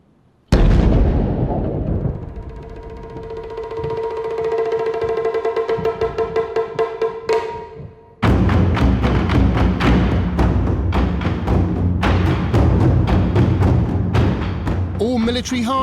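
Surplus military ammunition goes off in a controlled detonation at a large base: a heavy blast, then a rapid rattling series of cracks and pops, followed by a second dense run of bangs, loud and close.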